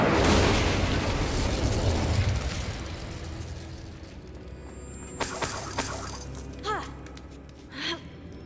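The Incendio fire spell in Hogwarts Legacy bursts out loudly, then a fiery roar fades over several seconds, followed by scattered crackles and pops.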